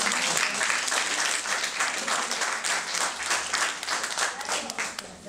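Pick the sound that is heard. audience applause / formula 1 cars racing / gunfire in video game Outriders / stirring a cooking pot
audience applause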